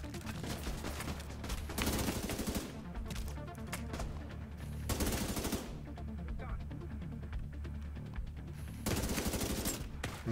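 A weapon in The Division 2 fires loud sustained bursts of automatic gunfire, with dense rattling volleys in three clusters separated by brief quieter stretches of lighter shooting.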